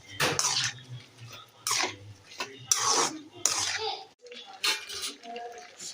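Cabbage kootu being stirred in a cooking pot, with a series of gritty scraping and clattering strokes against the pot, close and moderately loud, with a brief pause near the end.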